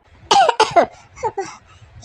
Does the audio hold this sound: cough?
yes